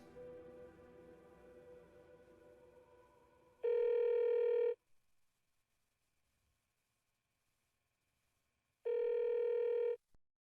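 A telephone rings twice in the video game Alan Wake 2, two loud electronic trills separated by several seconds of near silence, after a faint stretch of low ambience.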